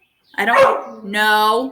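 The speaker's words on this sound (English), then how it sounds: "Sorry, that was my dog." A pet dog named Bridget gives a close, sharp bark and then a drawn-out whining yelp indoors, with a person speaking over it.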